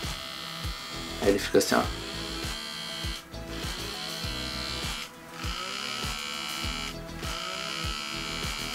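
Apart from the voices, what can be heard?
InFace blackhead vacuum device buzzing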